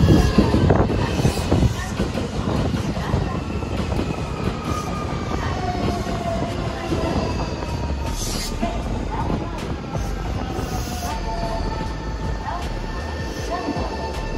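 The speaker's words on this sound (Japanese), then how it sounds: "いや、新品ピカピカですよ、この電車。" Brand-new 2022-built 8300 series Kintetsu electric train at a station, a loud continuous rumble of wheels and motors with faint squeals as it rolls past close by.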